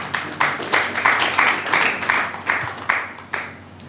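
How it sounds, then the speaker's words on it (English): Audience applause at a World Environment Day event, a dense wash of clapping rising and falling in steady pulses, moderately loud and fairly close, with no talk over it. "Thank you very much, and a round of applause for him."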